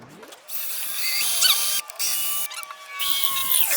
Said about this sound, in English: Now I'm going to drill all the way through